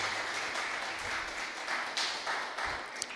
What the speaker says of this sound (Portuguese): vamos recebê-la com alegria, dando um aplauso ao Senhor Jesus